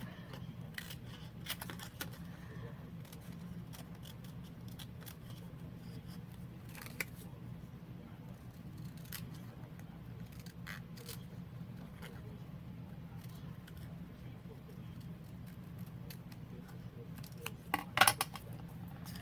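Scissors snip paper during planner crafting, a series of short, sharp cuts spread across the clip over a steady low room hum, with a slightly louder cluster of snips near the end.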